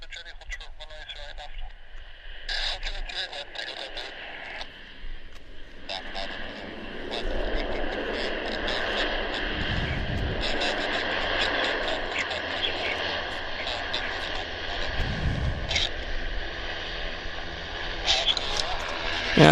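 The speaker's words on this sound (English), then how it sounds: "let's get this lander. Saab 340 time." A Pacific Coastal Saab 340 turboprop, flying for WestJet, landing at Vancouver Airport: a distant engine drone that grows steadily louder and fuller over the span, with a voice talking over it.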